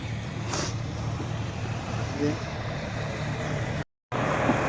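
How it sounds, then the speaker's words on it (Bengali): A motor launch passes on the river near a ghat on its way to Nabadwip, its engine making a continuous droning rumble heard from a boat, with a brief dropout near the end. "আমাদের এই ঘাট থেকে নবদ্বীপ ঘাট যাচ্ছে লঞ্চটা"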